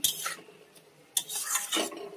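Spice paste with onion, ginger, garlic and tomato is worked in a pan, with scraping and clinking strokes of a spoon against metal in short bursts and a faint sizzle underneath, close by and without talk.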